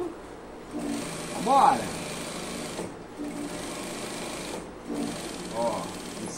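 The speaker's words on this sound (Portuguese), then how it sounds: "A gente vai passar duas costuras. Retrocesso." Sewing machine stitching two seams along tailored trouser legs, running in steady bursts with brief pauses between passes, while a person talks over the whirring motor.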